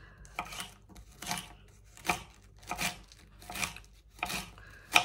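A knife slices pointed cabbage into strips roughly one centimetre wide on a board, giving six crisp, evenly spaced crunching cuts that sound close and fairly loud, with no talking.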